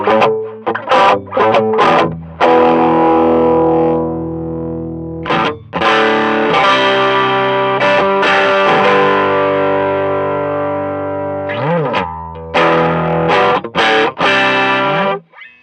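An electric guitar plays through a Boss OD-200 hybrid drive pedal with the mids boosted. Loud, saturated overdriven chords ring out and sustain in several phrases separated by brief stops.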